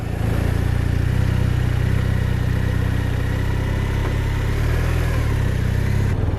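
A 2019 BMW R1250RS motorcycle engine runs close by with a steady, low, continuous drone that stays even throughout, with no voices.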